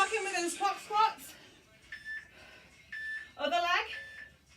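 During a kettlebell workout, an interval timer sounds a few short, steady beeps in a row, alternating with a person speaking.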